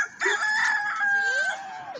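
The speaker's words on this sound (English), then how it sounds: "but it's still a rooster doing that." A rooster crows in a yard, one long drawn-out cock-a-doodle-doo lasting about two seconds, close and loud, with hens clucking underneath.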